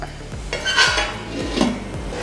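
A lid set onto a cooking pan of fish roe thoran on medium flame gives a few close metallic clinks and clatters of pot and cutlery, with no talking.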